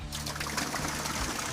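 Water trickles and pours steadily out of the engine of an old police car that sat sunk in a swamp for 40 years, a continuous close liquid stream with no talk.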